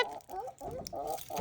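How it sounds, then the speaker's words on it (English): Repeated nasal calls from a duck at a farm sanctuary, several short bursts in quick succession, fairly close and clear with no talking over them. "Look at the little duck."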